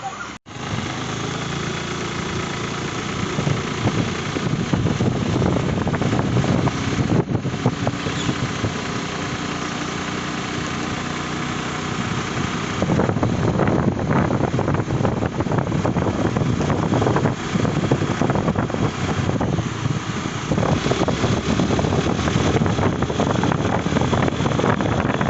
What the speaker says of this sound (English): Now let's take a ride over this Honda Activa.